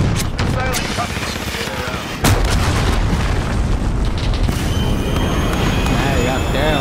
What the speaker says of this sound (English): Enemy missile incoming.